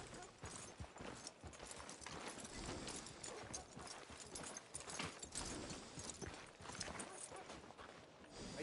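Horse hooves clip-clop in a steady rhythm, fairly close, in Red Dead Redemption 2, with a dense busy background and no clear speech.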